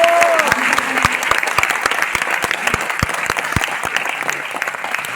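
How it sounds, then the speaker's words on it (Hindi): Loud applause from a seminar audience at a success celebration in Delhi, a full burst of crowd clapping with a few sharp, distinct claps standing out near the microphone and a short tonal sound early on. "ये देखो एक बार जोरदार ताली।"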